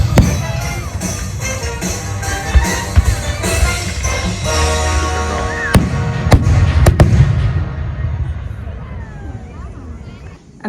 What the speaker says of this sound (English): they played fireworks with the music, and it was pretty cool.